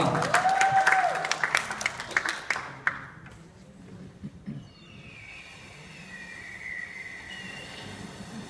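Audience applause for a singer introduced before a cover of a song: a dense burst of clapping for about three seconds, then fading into quiet room noise with faint tonal sounds.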